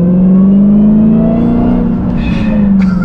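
An 800-horsepower car's engine revs hard in first gear without pulling away, a loud, steady roar holding one pitch, then dipping and swelling slightly near the end.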